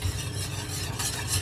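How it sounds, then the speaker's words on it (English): Eggs are whisked into a warm milk mixture in a pot on the stove for old-fashioned peppermint ice cream custard, a steady close scraping and swishing with a faint sizzle underneath, continuous and without speech. "So just continue whisking and cooking until it coats the back of a spoon."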